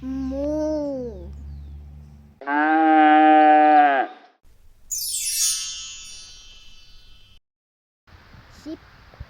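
A cow lets out one long, full moo in the middle. A brief spoken word comes before it, and other short animal-like calls follow it.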